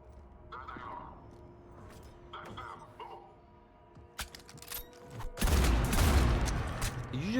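A burst of gunfire from a single-shot weapon in the sci-fi shooter Mass Effect 3, loud rapid shots crashing in near the end after quieter game ambience with faint voices.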